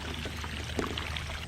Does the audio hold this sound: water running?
yes